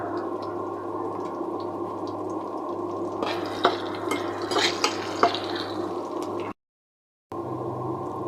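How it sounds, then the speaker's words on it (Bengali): Onion fries in oil in a pan with a steady low sizzle, broken midway by scraping and clinks of stirring, then a brief total silence before the frying resumes. "পেঁয়াজটা ভাজা হয়ে গেছে।"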